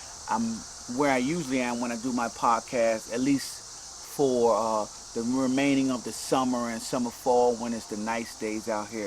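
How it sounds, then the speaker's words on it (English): A steady high buzzing of cicadas runs continuously behind someone speaking outdoors on a summer day, the insect drone faint but constant under his voice. "I hear the cicadas in the background"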